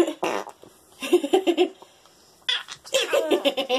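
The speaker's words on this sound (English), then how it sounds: "Are you trying to fart?" A baby makes a series of short, loud fart sounds in bursts, close by, mixed with giggly laughter.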